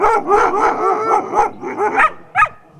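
Sled dogs bark at a dryland mushing race, an excited, near and loud run of yelping and yipping barks in quick succession, with a whiny edge and a sharper final yip.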